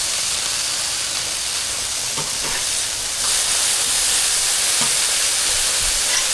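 Burgers sizzle on a Blackstone griddle, a loud continuous hiss that swells louder midway as they are flipped, with faint scraping and no talking.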